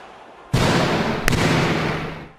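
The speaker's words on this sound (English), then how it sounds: "He really slapped the fuck out of that mahogany." A hand slaps a mahogany hardwood desk with a hard, gunshot-like crack, a second sharp smack following a beat later, both ringing out over a loud, sustained roar that lingers and slowly fades.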